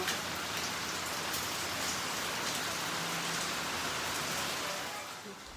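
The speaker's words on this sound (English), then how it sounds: "Rain happens here." Rain falling on the glass roof of a container home atrium, a steady dense hiss of drops on the surface, even and close, fading slightly at the end.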